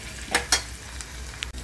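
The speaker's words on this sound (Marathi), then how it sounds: "आपण आता कढीपत्ता टाकूया" Curry leaves dropped into hot oil for a surmai masala, two quick crackling bursts then a low steady sizzle with a couple of faint clicks, close by with no talking.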